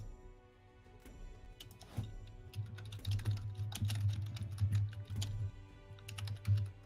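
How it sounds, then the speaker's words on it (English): Computer keyboard typing picked up by a voice-chat microphone during an online game league cast: a fast, uneven patter of key clicks that builds up and continues over a low hum, with no talk. "We can hear your keyboard."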